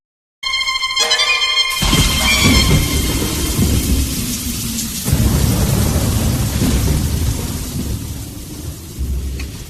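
A thunderstorm with heavy rain pouring steadily and loud rolling thunder rumbling near, swelling and fading across the whole stretch with no voices.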